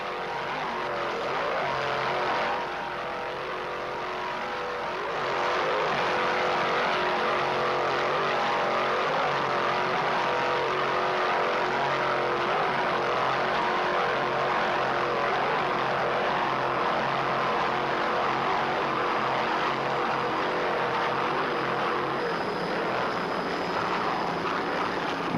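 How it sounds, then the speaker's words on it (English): An offshore racing powerboat's inboard engine roars steadily for the whole stretch, loud and sustained with a slight lift in pitch early on, during a 1994 race at Key West. "Troy Dennis inboard, sound excellent"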